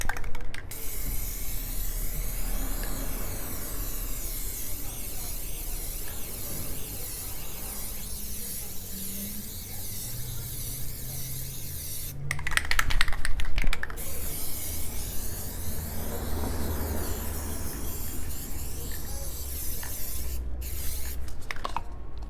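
Plasti Dip coating is sprayed from an aerosol can onto crocheted slippers as a continuous close hiss across the whole stretch, with a brief louder burst midway and a few light clicks and rustles.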